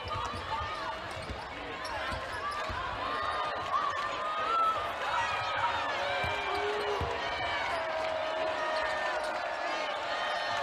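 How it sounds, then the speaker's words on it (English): Arena crowd noise at a Michigan vs. Nebraska women's college basketball game swells after a defensive stop. Sneaker squeaks and ball bounces sit under a broad roar, with commentary faintly present. "Crowd rising in volume for a defensive stop."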